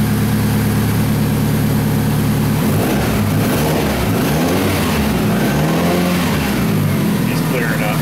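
A Toyota Camry with a broken timing belt runs after a crank-no-start, smoking in a shop; a steady loud idle shifts into uneven revving surges, with someone talking over it.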